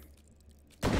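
Loud burst of gunfire from the Hot Dogs, Horseshoes & Hand Grenades VR game, shots fired over boxes in a supply room, erupting suddenly near the end after a quiet stretch and holding a dense, sustained roar.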